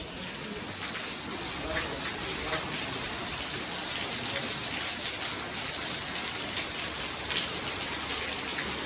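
Rain falls steadily in an even, crackling hiss, a constant patter that holds at the same level throughout.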